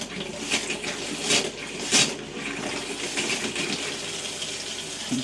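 Water gushes steadily from a bathroom tap while a home water system is flushed, a continuous close hiss with a few brief louder splashes.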